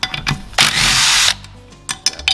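A power tool zaps 11/16 bolts off a Ford 2N tractor hydraulic pump. A short click comes first, then a loud close whirring burst lasting under a second, followed by lighter clanks and a couple of brief ratcheting taps.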